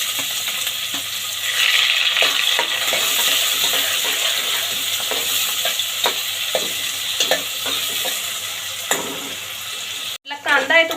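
Sliced onions and bay leaves fry in hot oil with a continuous crackling sizzle, punctuated by repeated spoon-and-pan stirring clicks and a sharp clatter near the end; no talking.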